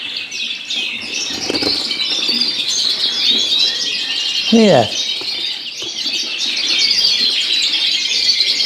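A small show bird in a training show cage with a clear perspex front chirps and tweets close by in a steady busy stream, with a brief flutter and a short word spoken partway through.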